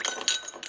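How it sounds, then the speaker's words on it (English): Ice cubes drop into a glass for an Old Fashioned, giving a few quick, light clinks at close range, fairly soft and over within a moment. "And grab some ice. Couple cubes."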